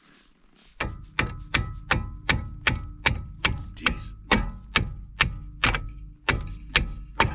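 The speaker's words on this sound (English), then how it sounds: "I need a hammer or something." A hammer strikes seized brake parts on a 2010 Dodge Caravan, about fifteen sharp metallic blows in a steady rapid rhythm, loud and close, with a brief muttered word.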